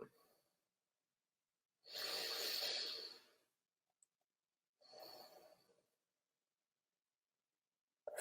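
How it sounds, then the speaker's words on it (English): Two slow, deep breaths are drawn in and let out, soft and airy with long silent pauses between them, heard close and alone. "Let's take 10 deep breaths in and breathe out."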